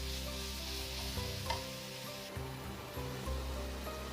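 Vegetables for vegetable cutlets sizzling and hissing in a pan over a medium flame, a steady close frying sound with occasional stirring scrapes and no talk.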